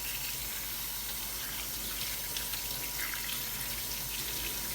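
A steady stream of tap water running into a sink while a Keurig water filter is rinsed, a constant hissing flow with faint splashing and no speech.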